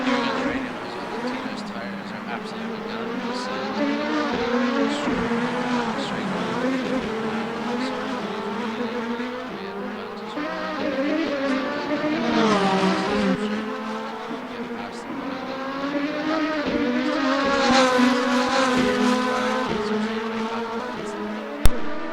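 Indy Lights race cars lapping a track in a racing video game, engines whining continuously and swelling as pitch climbs and drops through gear changes, with a voice talking over them throughout.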